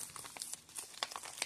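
Thin plastic bag crinkling while a custom Glock 19X-style pistol barrel is unwrapped, a quick, quiet run of irregular crackles and rustles up close with no talk.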